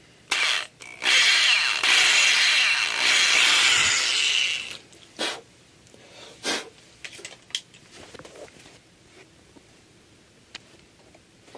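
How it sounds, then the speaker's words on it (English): A power drill bores a hole deeper into the wooden body of a Squier Bullet Stratocaster electric guitar, a loud whirring burst of about three seconds followed by short clicks and brief tool noises. "So I'm just going to drill a little further on that one."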